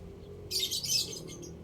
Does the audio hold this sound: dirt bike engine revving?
no